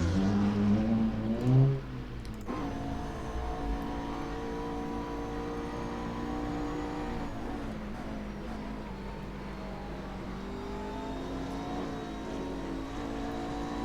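GT3 race cars at Monza in a sim racing game, a McLaren among them, with a loud steady engine roar and shifting pitch as revs climb and drop, one brief surge near the start.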